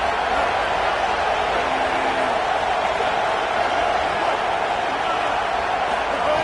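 Football stadium crowd at an NC State game roaring after a tackle for loss, a dense, steady wall of cheering that holds loud and unbroken throughout.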